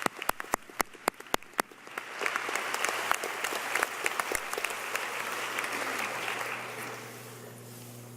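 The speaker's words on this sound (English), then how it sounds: "let's give them all a round of applause," An audience applauds medical school alumni standing at a University of Minnesota Medical School white coat ceremony, beginning with a few sharp separate claps that swell into steady, dense clapping from a large crowd before tapering slightly near the end.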